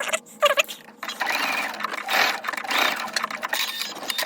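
A sewing machine stitches the two ends of a soft vinyl key fob together in short rapid bursts, close and clear, with brief pauses between runs.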